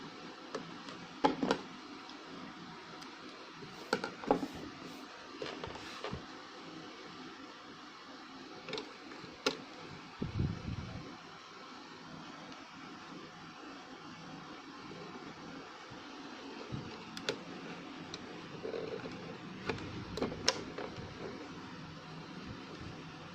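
A fabric scrunchie has its gap stitched closed, heard as quiet, intermittent mechanical ticking and short clattering bursts, with calmer stretches between them.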